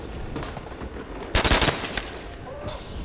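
Burst of rapid gunfire in a Nazi Zombies shooter game, a loud cluster of shots lasting about a third of a second midway, over a steady game-audio background.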